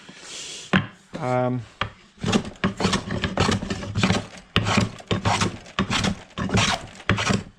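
A Stanley 78 scrub plane is pushed along wood in repeated rough, rasping strokes, taking thick shavings; the strokes come close and loud in a steady rhythm with short pauses.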